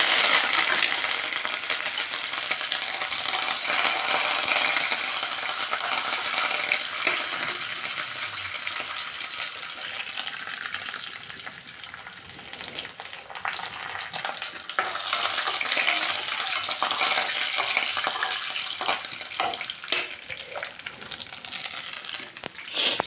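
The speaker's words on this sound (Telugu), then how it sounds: "ఇప్పుడైతే కరివేపాకు ఎండుమిరగాయలు అయితే వేసుకుంటాను" Curry leaves and dried red chillies fry in hot oil with a loud, continuous sizzle and crackle, and occasional stirring scrapes over some twenty seconds.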